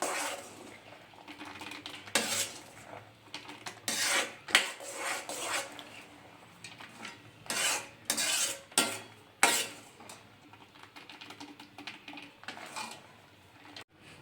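Peanut chikki mixture stirred in a pan, giving irregular scraping and clinking strokes of a utensil against the pan, close and fairly quiet, with no talking.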